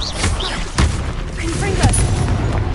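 Spell explosions in a Hogwarts video game, booming blasts and rumbling impacts layered under a voice shouting spell names, dense and continuous.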